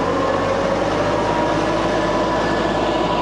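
A forestry mulcher driven off a tractor's PTO at about 1,500 RPM gives a loud, constant roaring drone, heard from a distance and holding steady with no talking.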